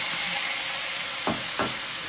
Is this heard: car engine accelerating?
no